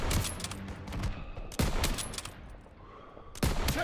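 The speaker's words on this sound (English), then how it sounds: "Daniels, hit those snipers!" Bursts of gunfire from the World War II shooter Call of Duty WW2, three sharp volleys of rapid shots spaced about a second and a half apart, loud and close with no talking over them.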